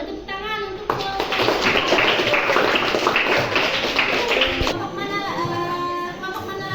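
A classroom audience claps after a student group finishes its presentation: a sudden, dense burst of many hands lasting about four seconds before cutting off, with quieter room sound and tones on either side.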